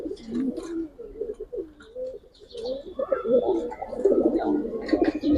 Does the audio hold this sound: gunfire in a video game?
no